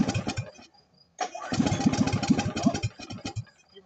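A 1967 Jacobsen Chief garden tractor engine is pull-started: a short cranking burst, a brief pause, then a louder rough sputtering run of about two seconds that fades back out, close by.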